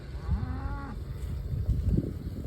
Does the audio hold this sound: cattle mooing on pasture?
yes